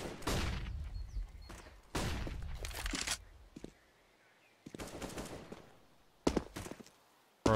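Counter-Strike gunfire on the Inferno map comes in several separate loud bursts: sharp shots with decaying tails, spaced by quiet gaps, and two crisp cracks near the end.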